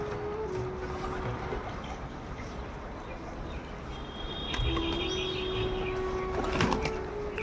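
Pigeons fly in to a rooftop to be fed, their wings flapping in soft, scattered bursts over a constant outdoor hiss, with a sharper flurry of wingbeats near the end.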